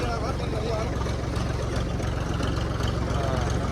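A tractor idles close by in a village, a steady low chugging rumble with even pulses that runs unbroken from start to finish.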